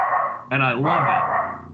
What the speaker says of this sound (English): you can hear my puppy in the background